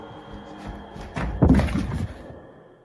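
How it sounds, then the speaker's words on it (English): A heavy thud comes from a neighbouring room in a house, one loud dull impact with a brief rumbling tail, muffled by distance and set against quiet room noise. "a loud thud sounds from the next room"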